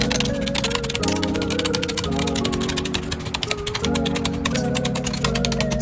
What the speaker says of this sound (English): To start cleaning, we need to take all these keys off.